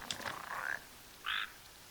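Frog in the video game Final Fantasy XV giving two short croaks a moment apart, clear and alone against a quiet background.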